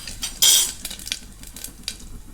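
Mustard seeds, cumin, asafoetida and curry leaves hit hot oil for a chickpea curry tempering, giving a sharp burst of sizzle followed by scattered crackles and a few utensil clinks in a quiet kitchen.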